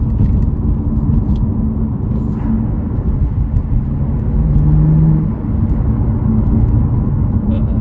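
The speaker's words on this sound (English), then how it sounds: "when you start up the car, it's got that N55 rumble to it" A 2016 BMW M2 with an N55 engine holds a steady, deep rumble at an even level throughout, idling close by with a low droning texture and no voices.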